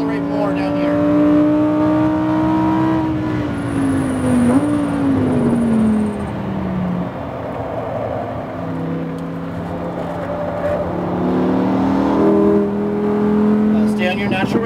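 A Lamborghini Huracan accelerates on a race track, its engine note climbing steadily through the gears in a loud, sustained tone with a brief dip, heard from on board with a voice talking over it.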